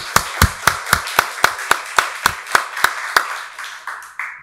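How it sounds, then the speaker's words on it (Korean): A church congregation at Sunday worship gives a round of applause to God, sharp rhythmic claps in a steady beat that gradually thins out and fades near the end. "박수로 하나님께 영광 돌리겠습니다."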